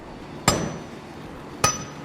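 Two sharp metallic hammer strikes on a touch mark stamp marking a hand-forged ball-peen hammer, about a second apart, close and ringing briefly in an otherwise quiet space.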